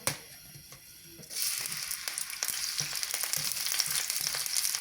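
Onion dropped into a pan of oil at normal heat: a quiet moment, then a sudden steady sizzle that holds with light stirring clicks throughout.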